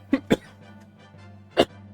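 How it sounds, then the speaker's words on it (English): A man with a lingering cold coughs three times: two sharp, close coughs in quick succession, then a short pause and a third harsh cough, all against a quiet room tone. "I don't know why I still have this horrible cough"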